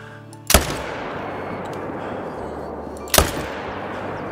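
Two loud rifle shots in the hunting game Call of the Wild, fired while hunting wild yak at Sundarpatan, spaced a few seconds apart, each with a sharp crack and a long rolling echo tail.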